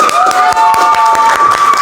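A classroom group claps for fellow students, with quick, loud hand claps close by. A steady tonal hum runs underneath throughout.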